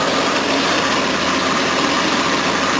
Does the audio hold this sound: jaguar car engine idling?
yes